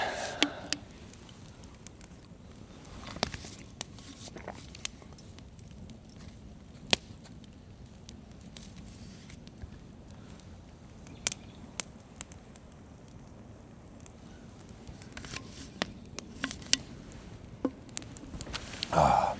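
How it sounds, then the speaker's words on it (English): Light rain beginning to fall on a campsite with a hot tent, scattered sharp drops tapping irregularly over a quiet background, growing a little denser near the end. "it's starting to rain a little bit."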